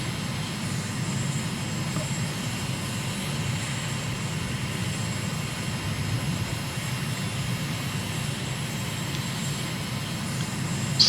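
Steady drone of a single aircraft engine in Microsoft Flight Simulator, a plane in Royal Australian Air Force Roulettes colours cruising at about 1,000 feet, a constant even hum with no talk.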